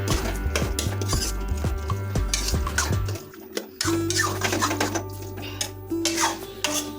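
Whole spices being sautéed in a kadai over a medium flame, with loud, close clattering and scraping of the utensil against the pan, rhythmic at first and then more irregular.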